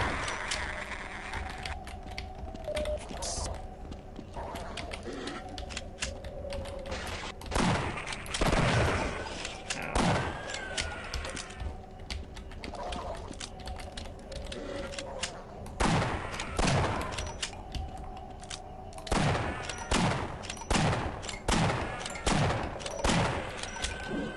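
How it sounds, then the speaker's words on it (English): Shotgun blasts from the game Half-Life fire in close-quarters chambers, heavy booming shots arriving in irregular clusters over a steady game background, several in quick succession toward the end. "Try to use the shotgun whenever I can, especially in these close quarter chambers"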